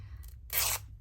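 Sari fabric torn by hand, a faint short rip followed by one louder, longer tearing rasp lasting about a third of a second, close and alone.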